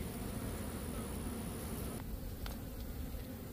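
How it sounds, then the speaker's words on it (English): Dense honeybee buzzing from a hive during queen rearing, steady and close with a continuous broad hum, a brief shift in tone partway as bees are shaken from a frame. "I'm going to shake off the bees and try another hive."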